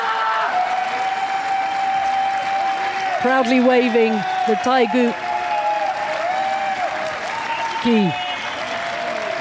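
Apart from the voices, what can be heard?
crowd cheering and applauding at boccia final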